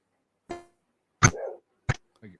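A few sharp, isolated dog barks sound from a room, spaced out and moderately faint, with silence between them.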